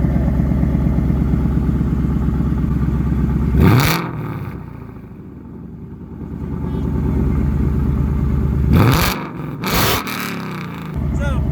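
New Ford Mustang exhaust in track mode, a low steady idle rumble broken by two sharp throttle blips that bark and crackle before settling back, loud and close.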